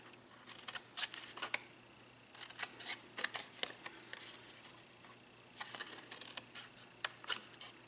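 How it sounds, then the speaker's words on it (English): Paper cardstock being snipped with scissors, cutting a flap on the diagonal for a Halloween treat gift box made on a punch board; bursts of close, crisp cuts in clusters with short pauses between. "So you're really just cutting on the diagonal and pulling this out."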